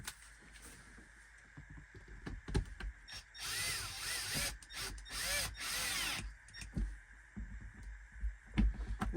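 Power tool tightening bolts while reassembling an expedite truck: quiet shop clatter and clicks, then two close, loud whirring bursts of the driver spinning down the bolts, followed by more handling noise.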